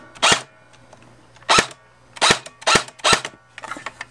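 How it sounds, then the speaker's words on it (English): A JG G36 airsoft rifle fires five sharp, snappy semi-auto shots in an irregular rhythm, loud and close, followed by a softer clatter of mechanism at the end. "you still get that snappy semi-auto."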